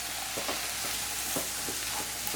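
Cooked chickpeas being stirred into half-cooked beetroot in a pan, a steady hiss of sizzling under a few soft scraping strokes of a spoon, close and even, with no voices.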